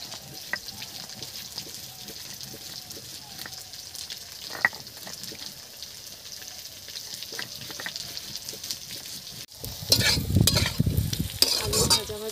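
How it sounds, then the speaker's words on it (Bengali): Potatoes frying in a pan with cumin and onions, a steady soft sizzle and occasional stirring scrapes, then a louder burst of sizzling and stirring near the end. "আলু ভাজা ভাজা হয়ে গেছে,"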